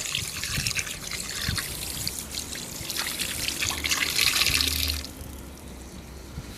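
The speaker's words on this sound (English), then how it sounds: "we've pre-measured 2 litres of tap water just to add into the mix as well" Tap water, two pre-measured litres, trickles and splashes into a bucket mix, a close, steady pour that swells near the end and then stops, leaving quieter dripping.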